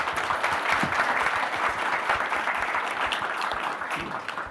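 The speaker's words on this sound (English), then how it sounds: "let's give them a big round of applause" A conference audience applauds as a session closes before a lunch break, a dense, sustained clapping from many hands heard close and loud from start to finish.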